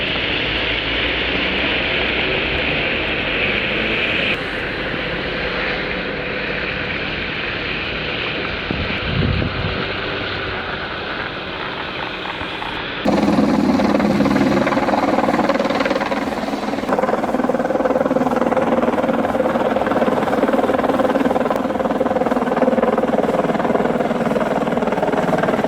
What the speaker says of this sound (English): Never imagined seeing a chopper pull off a cleaning job like certain pilots do.